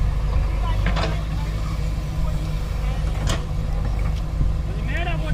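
A Sonalika tractor hauls a fully loaded trolley, its low engine drone rumbling steadily and close while other road noise and brief tones pass over it.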